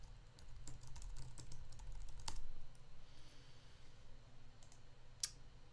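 Typing on a computer keyboard during a live coding session, with steady, irregular clicking keystrokes running throughout at moderate closeness, sometimes in quick bursts and sometimes sparse.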